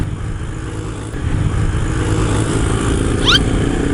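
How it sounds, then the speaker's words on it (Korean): A small motorcycle, 90cc or under, revs hard at full throttle on a road in Thailand, a steady loud buzzing engine drone that rises slightly in level, with a brief high squeal near the end and no talk. "저렇게 작은 오토바이 갖고 있는 힘껏 달려갑니다"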